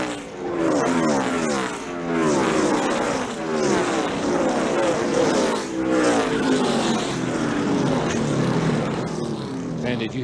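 NASCAR race cars roar around Las Vegas Motor Speedway, loud engines sweeping up and down in pitch as several cars pass in waves, with a commentator talking over the racing noise.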